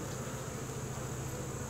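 Honey bees hum steadily at an opened hive in late October, a dense, continuous close-up buzz with no voices over it.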